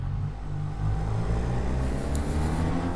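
SYM Maxsym TL 500 maxi-scooter engine pulling on a winding road, a loud steady low drone with heavy wind rumble throughout, heard from the rider's position without talking.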